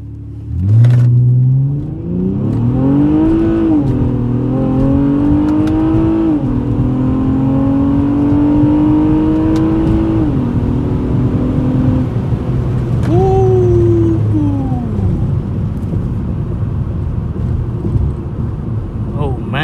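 A Honda Accord Coupe V6 on a Ktuner base map accelerates hard on a quarter-mile run. The loud engine drone climbs in pitch through each gear, with a short break at every shift before it pulls again.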